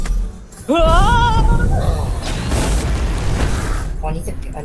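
A deep booming explosion in a Roblox video game rumbles loudly under an excited voice, with a sustained roar and crackle afterward.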